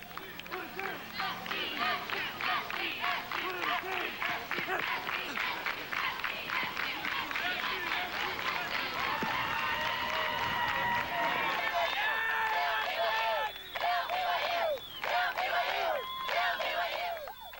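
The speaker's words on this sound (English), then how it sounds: "They marched around and paraded and cheered." Fraternity and sorority fans march and cheer at a 1991 San Diego State Aztecs football practice, a continuous outdoor crowd of shouts, chanting and clapping with rhythmic stomping, loud and sustained throughout.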